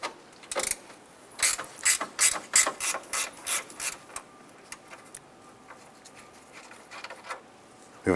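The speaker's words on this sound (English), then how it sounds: "We have a 10 millimeter bolt here for our headlight assembly. Go ahead, loosen and remove that." A ratchet loosens a 10 mm headlight assembly bolt on a 2007-2012 Nissan Versa, its clicks coming in quick close bursts, first in a long run and then in scattered shorter strokes, with no talking.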